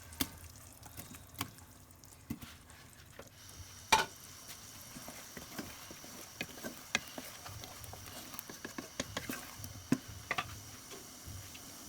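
Gola kebabs cook in a pan with yogurt, a low bubbling simmer broken by frequent sharp ticks, pops and spatula clicks, close by and fairly quiet, with no talk.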